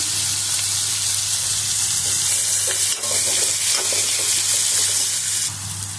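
Curry leaves, chopped onions and green chillies fry in hot oil in a pan, giving a steady, close, continuous sizzle with faint stirring scrapes and a low constant hum underneath, no voices.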